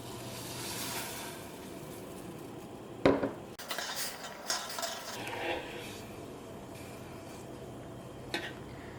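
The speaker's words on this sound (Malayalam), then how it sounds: "ഇനി ഇതിലേക്ക് വെർമിസെല്ലി ചേർക്കുക" Vermicelli being stirred and roasted in a little oil in a pan, with scattered clinks and scrapes of a spatula against the pan over a faint sizzle, fairly quiet and close; no talking.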